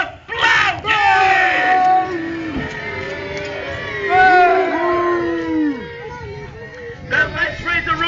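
Spectators at a castle joust tournament roar, cheer and yell together in a loud, swelling mass of voices that dips in the middle and surges again at the end, close by and unbroken.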